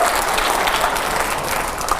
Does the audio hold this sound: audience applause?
yes